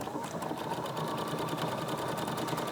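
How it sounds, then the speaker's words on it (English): A computerized sewing machine runs steadily on its start button, stitching an orange mouse quilt design beginning at the tail, a continuous close whirring hum with a fast regular needle pulse throughout. "So right now, I'm going to start sewing."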